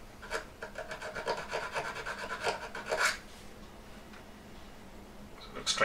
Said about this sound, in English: I'm kind of just evening them all up with the needle file.